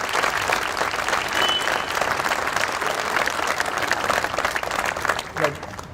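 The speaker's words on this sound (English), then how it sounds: "Now you can applaud." Applause breaks out at a police facility grand opening and dedication ceremony, as a crowd claps steadily and fairly close for several seconds, the noise thinning slightly near the end.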